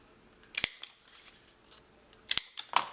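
Scissors rounding the corners of paper for a boy's scrapbook album, two sharp crisp snips about two seconds apart with faint rustling between, close and alone.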